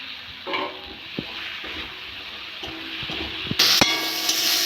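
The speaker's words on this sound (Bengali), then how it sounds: "মশলাটা কষে নেবো" Spiced tomato masala for a potato and pangas fish curry sizzles and fries in a pan, with steady crackle broken by scraping stirs and clinks of a spoon, growing louder and brighter near the end.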